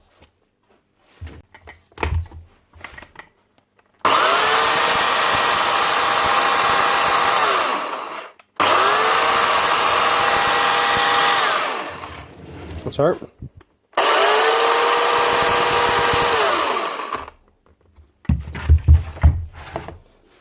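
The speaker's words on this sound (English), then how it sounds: "chainsaw, up and running again. Just needed a blade tensioner." Chainsaw running after a blade tensioner repair, three loud sustained revving bursts of several seconds each separated by short pauses, with handling clatter and a brief spoken remark at the start.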